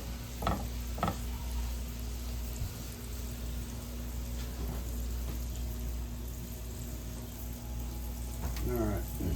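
Garlic fries in a pan with a soft, continuous sizzle, broken by occasional scraping stirs and a few knocks, with a voice speaking briefly near the end.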